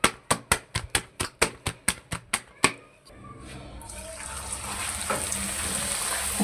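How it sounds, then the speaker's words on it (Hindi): About a dozen evenly spaced sharp taps come first, then puri dough goes into hot oil and a steady, bubbling sizzle builds and holds close up. "1-2 मैं आपको फ्राई करके दिखा देता हूँ"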